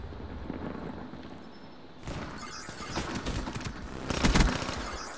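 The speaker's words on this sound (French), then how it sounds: "Donc là, c'est une arme à rafale auto." Burst-fire automatic weapon in the video game Black Ops 3, firing short rapid bursts: clusters of sharp cracks, loudest toward the end, over background game noise.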